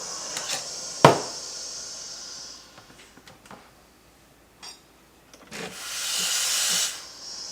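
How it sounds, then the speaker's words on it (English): A Breville Barista Express steam wand steams Minor Figures oat milk, giving a sharp hiss with a brief burst at the start and a louder, steady roaring hiss near the end, with quieter clicks and gaps in between. "So this time I'm going to steam up minor figures milk."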